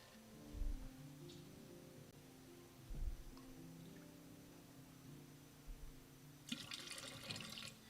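Water is poured at a Unitarian Universalist ingathering water ceremony: soft thumps and a faint trickle, then a brief, clearer splashing pour near the end, all quiet and close.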